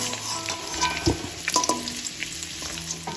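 Potato and cauliflower pieces frying in hot oil in a pan, a continuous close sizzle with spatula scrapes and light metallic clinks throughout, no voices.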